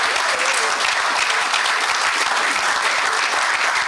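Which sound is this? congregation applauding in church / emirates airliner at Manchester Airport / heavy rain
congregation applauding in church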